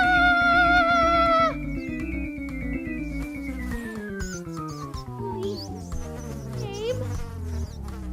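A storytime sound effect of a swarm of fleas buzzing, set to a tale about Hamelin. The steady, dense, whiny insect drone fills the clip, loud and continuous, with a high whine at the start that gives way to a thick layered buzz.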